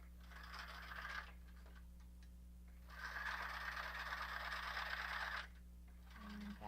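A home sewing machine stitching a t-shirt, two bursts of fast, steady mechanical whirring separated by a pause, close and fairly quiet over a low hum.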